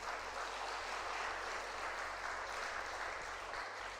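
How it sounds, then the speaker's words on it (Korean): Church congregation applauding a pastor, a continuous, even patter of many hands across the room, fairly quiet and steady throughout with a low hum beneath. "목사님한테 박수 한번 쳐주세요."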